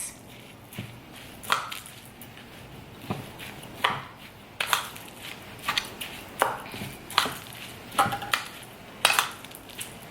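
Meat and rice stuffing for grape leaves is mixed in a bowl, giving a series of separate clinks and squishy clacks that come irregularly and grow more frequent toward the end, close and moderately loud.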